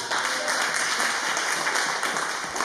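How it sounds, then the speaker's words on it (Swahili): A church congregation applauds during a Sunday celebration service, a steady dense wash of clapping that holds evenly throughout at moderate loudness, with no distinct voices standing out. "Tupigie makofi mazuri."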